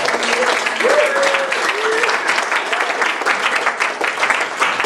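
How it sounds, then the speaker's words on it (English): An audience claps steadily in sustained applause, with a few faint voices and a brief cheer mixed in. "Let's give a big round, another round of applause."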